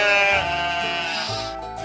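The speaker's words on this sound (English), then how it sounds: "Baa, answered the sheep." A sheep bleats once, a loud, close, wavering baa lasting nearly two seconds, heard alone.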